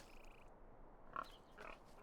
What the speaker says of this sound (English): Very cute pigs.